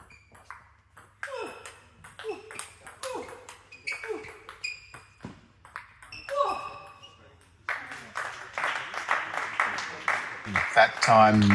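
Table tennis balls crack back and forth in a rally at the ITTF Oceania Cup in Christchurch, crisp rhythmic pings, with voices and crowd noise swelling toward the end.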